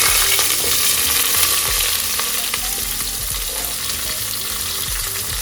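Onions fry in ghee for chicken biryani, giving a steady, dense sizzle throughout with faint scraping and stirring clicks, close and continuous with no talking.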